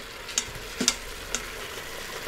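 Chicken pieces for tinolang manok sautéing in a pan, a steady low sizzle with a few sharp stirring clatters.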